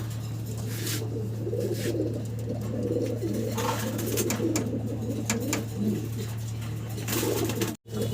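A male pigeon coos at a pigeon farm, soft repeated coos in the mid-distance over a constant low hum, with a short dropout near the end.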